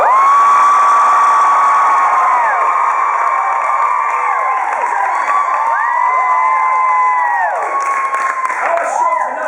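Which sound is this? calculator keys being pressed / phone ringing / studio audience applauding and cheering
studio audience applauding and cheering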